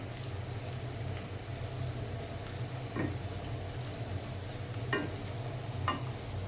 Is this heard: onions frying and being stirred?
yes